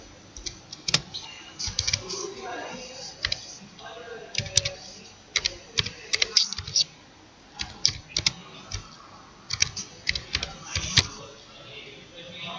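Someone types on a computer keyboard in uneven bursts of clicking keystrokes, close and moderately loud, with a faint voice speaking at times underneath.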